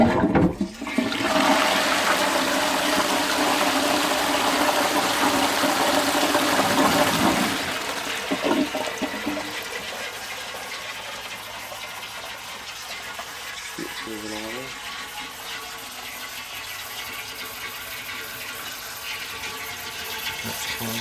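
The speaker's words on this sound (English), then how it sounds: "Let's give it a flush." A restored 1950s Athenium cistern toilet with a high-pressure Portsmouth float valve is flushed with a loud rushing gush of water, which settles into a long steady hiss of the cistern refilling, with a few small clunks along the way.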